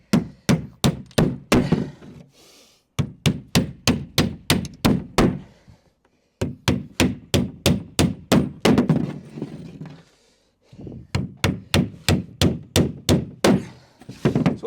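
A hammer drives nails by hand into a timber wall frame for a garden room, in rapid bursts of sharp, close, loud blows with short pauses between each run of strikes.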